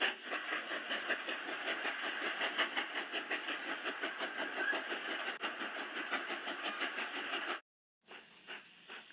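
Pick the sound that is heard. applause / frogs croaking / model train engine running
model train engine running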